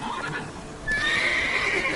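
Roach, a horse in The Witcher 3 video game, gives a loud whinny after about a second, over a steady background of galloping hooves and in-game ambience.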